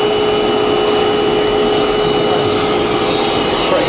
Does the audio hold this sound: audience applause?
no